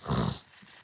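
A dog gives one short low growl or gruff bark at moderate distance, then a faint quiet tail of background noise.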